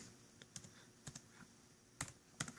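Keys clatter on a Chromebook keyboard in a few quiet, scattered bursts of close clicks, with short pauses between the keystrokes.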